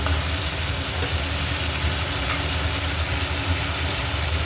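Boiled chickpeas being stir-fried in a pan for a potato, pumpkin and pointed gourd curry, giving a steady, fairly loud sizzle with a low rumbling hum underneath, continuous throughout with no speech.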